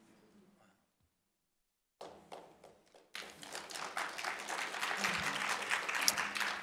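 An audience claps after a talk on food choices and climate change, with a few scattered claps at first building into sustained, fairly loud applause.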